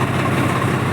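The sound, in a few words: tractor engine running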